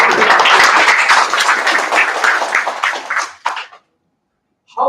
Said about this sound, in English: Yes, clap for it now.